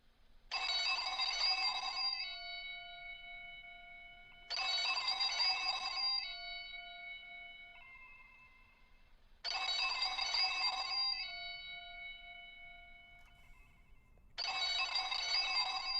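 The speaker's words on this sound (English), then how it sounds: "It's the phone." A telephone rings in an empty house in a game setting, four bursts of bright electronic ringing spaced a few seconds apart, each with a tone that lingers and fades before the next ring, loud and alone.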